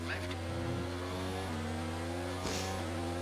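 Steady engine drone from a Formula 1 car in the F1 2019 racing game, pulling away from the pit lane with a sustained tonal whine and a slight surge near the end, voice chatter faintly underneath.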